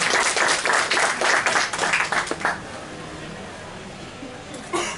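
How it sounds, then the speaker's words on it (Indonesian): Applause from an audience at a book launch held in a bookstore, dense clapping for about two and a half seconds that then drops away to quiet room tone, with a brief sound near the end. "Mau tepuk tangan lagi?"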